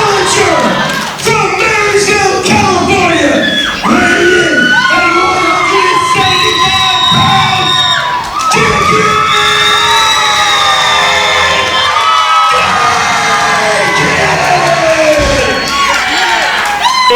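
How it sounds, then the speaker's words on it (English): A wrestling show crowd cheers, shouts and whistles loudly and continuously, with a dense roar of many voices and high-pitched yells throughout. "And little Dicky has a huge cheering section in the front row."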